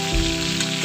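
Pangas fish fries in hot oil in a village kitchen, a loud, close, continuous sizzle crackling through the whole brief moment.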